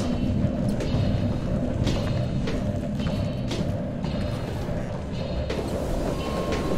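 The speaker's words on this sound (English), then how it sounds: "Can we stop the train?" A train runs in the horror video game Reveil, giving a continuous heavy rumble with periodic rhythmic clacks and thumps of the wagons over the rails, steady and fairly loud, with no talk over it.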